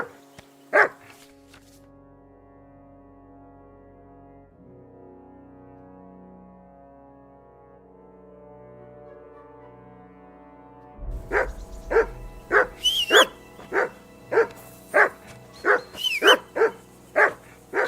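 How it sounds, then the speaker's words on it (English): Dog barking in the medieval game Kingdom Come: Deliverance II: one sharp bark, then a long low ambient lull, then a steady, close run of about a dozen loud barks at a brisk, even pace. "Call off that mutt of yours!"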